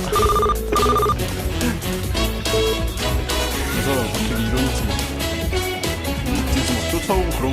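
A phone ringing in the video game Run Pizza Run trills in repeated bursts over loud game music and effects, with a voice talking over it.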